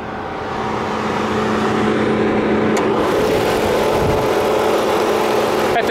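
A 2013 Dodge Durango R/T's 5.7-liter Hemi V8 with overhead valves runs loud and close under the open hood, starting up and then holding a steady, deep idle throughout.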